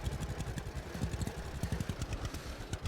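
A tractor engine in the farming game Farmer's Dynasty, running with a steady, rapid low chugging pulse at close range, no talking.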